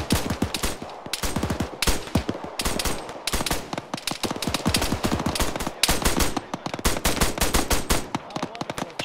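Dense gunfire in an Arma military battle, with rapid machine-gun bursts and single shots cracking almost without pause, loud and close throughout, and no talking.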